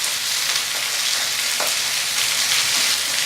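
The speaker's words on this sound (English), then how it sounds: "As soon as I get them browned on one side, they are going in the oven." Chicken pieces browning in a hot pan, giving a steady, loud, close sizzle and frying crackle throughout with no talking.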